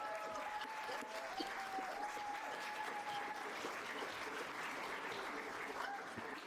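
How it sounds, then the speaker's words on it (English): A school audience of student reporters and guests claps in sustained applause after a live talk, steady and fairly loud from start to end with some whistle-like tones over the clapping. "Can we get a round of applause?"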